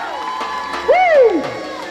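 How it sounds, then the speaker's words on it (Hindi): A crowd at a sangeet celebration for bride and groom Ravi and Poonam cheers steadily, with a loud rising and falling whistle or whoop near the middle, the festive noise continuing throughout. "जोरदार तालियां दूल्हा दुल्हन के लिए"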